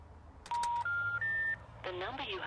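Someone dials a number on a telephone keypad, producing three clear, steady tones in quick succession, each pitched differently. A recorded voice follows right after.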